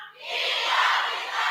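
A group of teenagers and youths at a summer career program shouts the program name together in one loud, sustained unison cry that fills the room for over a second.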